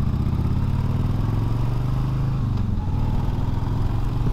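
A motorcycle engine running steadily on a night ride, a loud, close, even low drone with constant rumble and slight clatter, no voices.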